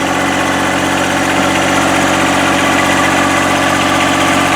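Loud, steady tractor engine running close by at a constant idle-like drone with heavy vibration while it lifts a chicken coop on its forks, alone with no talk.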